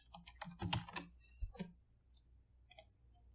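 Typing on a computer keyboard while entering text into GIS mapping software: a quick, quiet cluster of clicking keystrokes, then a few sparse taps, heard faintly and alone.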